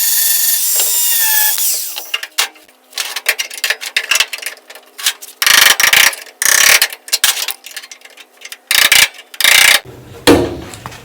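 Spots on an International Scout body being ground off with a power grinder, heard as loud close bursts of harsh high whine that start and stop repeatedly, separated by brief quiet gaps.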